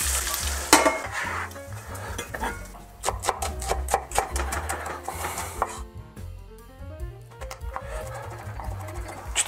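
Diced mushrooms and meat sizzle in a hot pan, with steady frying hiss under repeated scraping and stirring clatter from a utensil, close up and fairly loud.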